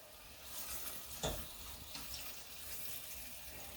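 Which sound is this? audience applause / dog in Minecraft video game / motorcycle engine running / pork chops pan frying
pork chops pan frying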